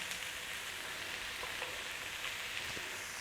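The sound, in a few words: onions, garlic and potatoes frying in oil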